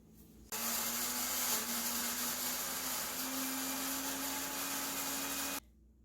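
A blender whirs steadily for about five seconds, blending chili peppers, garlic, ginger and apple for Korean yeolmu water kimchi, its motor tone rising slightly, fairly quiet and alone.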